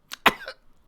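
A tabletop role-playing player gives a few short coughs in character, as if choking on smoke from a funeral pyre of burning bodies, three sharp bursts close to the microphone.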